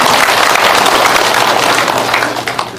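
Steady, dense applause from an audience at a veterans' association gathering in Korea, a continuous wash of many hands clapping at full strength that eases slightly near the end.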